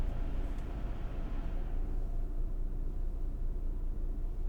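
A parked 2023 Ford Bronco OBX idles with its air conditioning switched off. A faint upper hiss fades early on, leaving an even, low engine drone that continues without a break.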